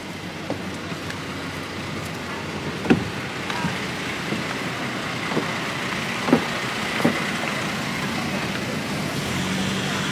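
A steady broadband engine and water rumble carries through a boat ride out to an island off Phuket around sunset, with a few faint knocks and thumps scattered through it and no clear speech.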